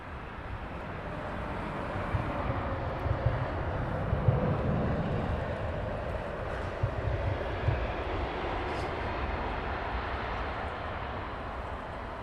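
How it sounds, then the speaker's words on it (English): A Saudi Boeing 787 Dreamliner arrives at London Heathrow, its jet engines making a steady, fairly distant roar that swells slightly mid-pass, with no speech. "Saudi Dreamliner."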